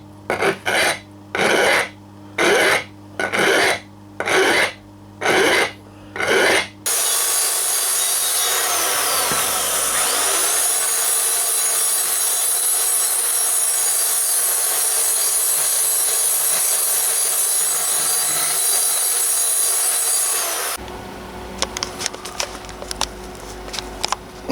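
Rhythmic rasping strokes of a hand file on wood, about seven in a row, then a long steady grinding roar before brief scraping resumes.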